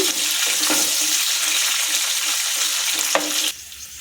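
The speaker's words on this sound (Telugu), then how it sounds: "ఉల్లిపాయలు కూడా వేస్తున్నాం ఇవి కూడా కొంచెం ఎర్రగా ఏగనివ్వాలి" Chopped onions sizzle and hiss steadily in a hot pan for chutney, with scraping stir sounds near the start and again just before the frying noise drops away at the end.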